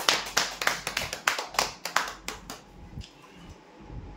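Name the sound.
applause for lucky draw winners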